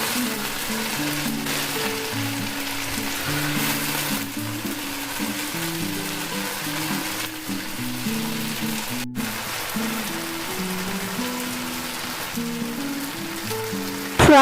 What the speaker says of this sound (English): Fry rest of the fish the same way.